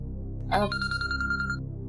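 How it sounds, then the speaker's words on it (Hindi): A telephone rings indoors in a domestic drama scene, a brief electronic ringtone with repeating tonal pulses following a short voice-like chirp, fairly clear against a quiet background. "किसका फोन आ रहा है?"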